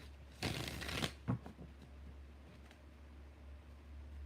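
Tarot cards get a quick riffle shuffle, a short burst of crisp flutter followed by a few soft taps as the deck settles, then near silence with a low hum in the room.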